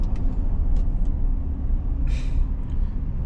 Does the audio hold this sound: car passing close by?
yes